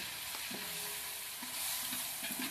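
Chopped onions frying and sizzling in a pan at an outdoor biryani cookout, a steady broadband hiss with a few stirring scrapes and faint background tones, no talking.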